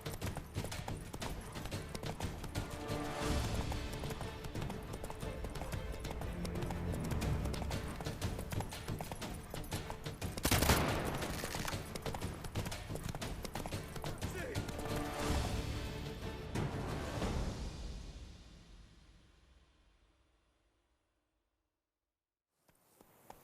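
A horse gallops with steady rapid hoofbeats in The Witcher 3: Wild Hunt Blood and Wine, loud and continuous for most of the stretch before fading out to silence near the end.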